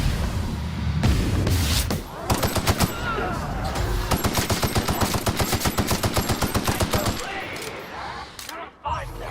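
Gunfire in The Outer Worlds: scattered shots, then long, loud bursts of rapid automatic fire with a steady, fast rhythm. Brief pauses break the bursts, a final shot rings out near the end, and voices speak faintly underneath.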